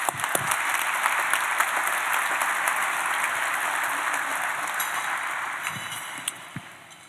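Gala audience applauding themselves at a dinner event, a broad sustained wash of clapping with a few sharp nearby claps and clinks standing out, easing slightly toward the end.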